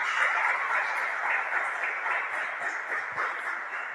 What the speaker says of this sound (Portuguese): Um aplauso para o Senhor neste momento